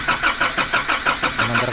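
A Nissan NV350 diesel van with no fuel yet, cranking without catching: a rapid, even, rhythmic chugging of the starter turning the engine over, loud and close.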